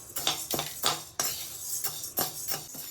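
About 150 grams of urad dal being roasted and stirred in a pan over a medium flame for idli podi: repeated scraping, rattling strokes come at a steady rhythm, close and fairly clear, with no talking.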